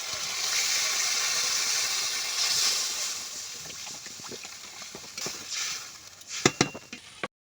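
Water poured into a hot pan of fried potatoes with chili, ginger and cumin sets off a loud, steady sizzling hiss that gradually eases, ending with a few sharp clinks of a utensil against the pan.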